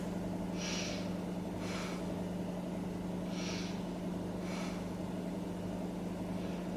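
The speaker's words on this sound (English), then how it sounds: "Take 3 breaths." Deep, slow breaths during a beginner yoga pose come in soft, airy pairs of inhale and exhale, repeated about three times over a steady low background hum.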